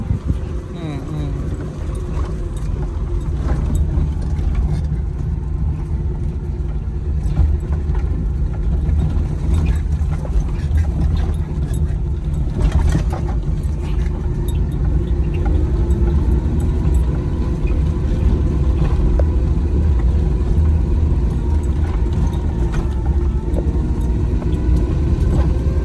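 A car engine drones steadily as the vehicle climbs a hill road near Munnar, a continuous low rumble heard close up throughout, with people talking over it.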